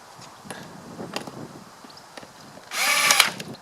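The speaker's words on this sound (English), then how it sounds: "And then back to our drill with the T25." A power drill fitted with a T25 bit whirs in one short, steady burst near the end, after a few small clicks and handling knocks while working on a car's air filter.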